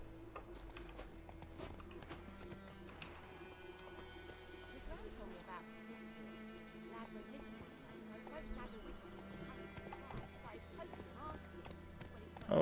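Galloping horse hooves clip-clop steadily in The Witcher 3 over layered game music and ambience, with a possible whinny partway through; the rhythm stays dense and continuous throughout.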